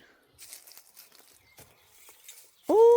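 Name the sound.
hen rummaging and scratching about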